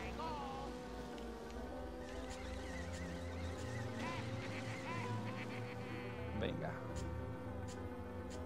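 Ducks quack in the kart racer Mario Kart 64, scattered nasal calls blended into game music and engine hum, with a voice talking over them.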